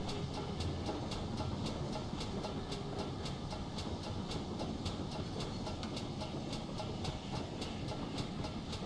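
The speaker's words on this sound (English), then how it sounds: "the engine, pounding up the other way, of course coming up the banks here" A train rolls steadily along the track with a regular clickety-clack rhythm and engine rumble, fairly close and continuous, with no voices.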